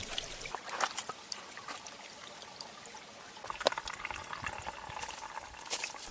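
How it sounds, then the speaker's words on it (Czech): Small streams on a mountain's western slope trickle and splash steadily at low volume, with scattered sharper drips and gurgles over a soft continuous wash of water. "Na západním svahu Murgaše nalezám hned několik vydatných potůčků."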